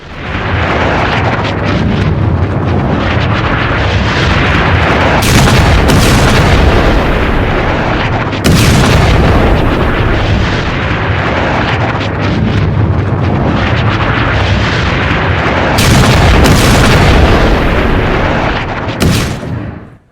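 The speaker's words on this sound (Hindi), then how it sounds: "खमनेई का जो अति सुरक्षित बंकर कहा जाता था, सेफ जोन, सेफ ठिकाना कहा जाता था, उसे उड़ा दिया।" A heavily fortified bunker in Iran is blown up amid war strikes: loud, sustained roaring blasts with repeated heavy booms and sharp cracks rolling on for about twenty seconds.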